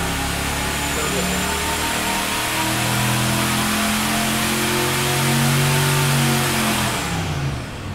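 A small-block V8 with stock iron heads, a very small camshaft and a budget Amazon turbo kit revs loudly and steadily up close, its deep rumble swelling and rising in pitch near the end before dropping off.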